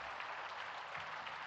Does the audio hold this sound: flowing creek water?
no